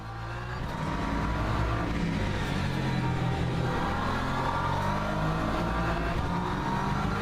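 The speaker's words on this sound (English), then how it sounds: "And then you can just listen to race cars racing, like AMSR." Race cars roaring around the track in Le Mans Ultimate, a WEC endurance racing game, with a dense, continuous engine drone and revving that swells and fades as cars pass, loud and steady throughout.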